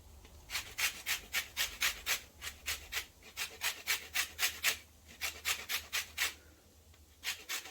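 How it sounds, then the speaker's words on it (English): Lemon rind grated for a carrot and sesame burger, a quick rhythmic series of close scratchy rasping strokes, about two or three per second, steady and unaccompanied by voices. "And then we are going to grate our lemon rind."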